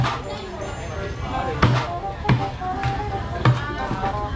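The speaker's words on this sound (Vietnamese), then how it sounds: "Đây hai cao thủ chặt gà." Cleavers chopping chicken at a large outdoor wedding cookout, several sharp thwacks landing at irregular intervals over a background of voices and kitchen bustle.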